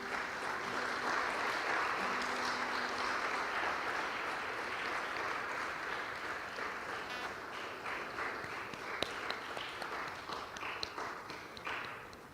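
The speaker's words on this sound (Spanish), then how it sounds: "Dale un aplauso al Señor." A church congregation gives sustained applause, a dense wash of many hands clapping that carries on steadily and tapers off with a few scattered claps at the end.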